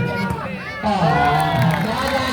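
A volleyball match crowd claps and cheers loudly, the noise rising sharply partway through and staying strong to the end.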